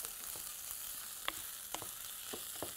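A spoon stirs rice with tomato sauce and paprika in a pot, a soft steady sizzle broken by a few sharp scraping clicks, close and fairly quiet, no voices.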